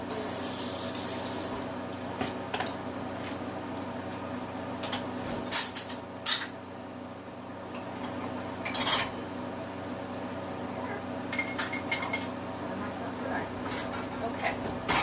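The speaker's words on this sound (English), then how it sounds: "Just enough time to wash this pan or bowl." A pan or bowl and dishes being washed at a kitchen sink, running tap water throughout with clinks and clatters of dishes and cutlery, a few sharper knocks, close by, while a person talks over it.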